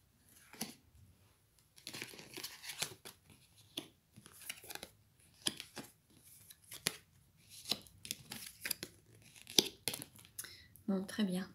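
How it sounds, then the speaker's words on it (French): Tarot-style cards are handled and turned over one after another at close range in a quiet room. The light, papery flicks and slaps come in bursts, with a soft voice at times. "Je retourne toutes les cartes."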